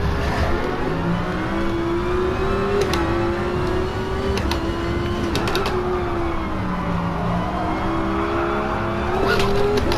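Race car engines in the racing video game GT Sport rev and whine steadily throughout, with pitch rising and falling through gear changes and occasional sharp bursts, loud and continuous with no pauses.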